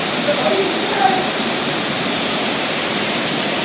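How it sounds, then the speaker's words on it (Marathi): Steady broad rushing of the Somtirth waterfall in Konkan, Maharashtra, loud and continuous throughout, with faint voices briefly audible early on. "मस्त असा हा धबधबा आपल्याला इथे पाहायला मिळतो"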